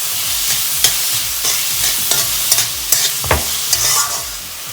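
Tomato and salt stirred and cooking in a pan for vermicelli upma, with a steady sizzle and repeated scraping spoon strokes at an irregular rhythm, close and fairly loud with no voices.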